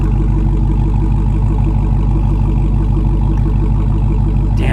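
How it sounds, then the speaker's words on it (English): A Honda S2000 idles at a salvage auction yard, heard from behind the car at the exhaust: a steady, loud, low, even engine drone with a fine regular pulse, unchanging throughout. "Let's go back here, see what the exhaust is sounding like."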